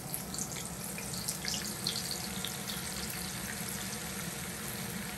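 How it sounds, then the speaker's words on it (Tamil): Onions deep-frying in hot oil for Hyderabadi biryani give a steady, moderately loud bubbling sizzle that carries on without a break. "இந்த வெங்காயத்தை ஃப்ரை பண்ண போறேன்"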